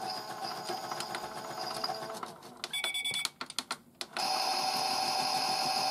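Miele W1 toy washing machine by Theo Klein spinning, a steady whirring electronic hum with tonal whine, broken midway by a string of quick clicks and clunks before the loud spin tone resumes, no talking.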